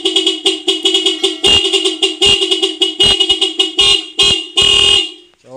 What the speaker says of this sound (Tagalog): Ayan, busina po natin.